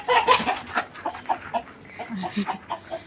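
Chickens on a farm cluck in short, repeated bursts at close range, with a quick flurry near the start and then a steadier run of clucks.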